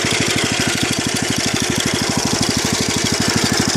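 A go-kart engine runs steadily with a fast, even chug of firing pulses and a bright mechanical rattle on top, close and loud with no break for the whole stretch.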